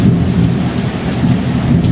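Heavy rain pours down in Lahore, Pakistan, a dense, loud, unbroken hiss with a deep rumble of thunder rolling underneath throughout.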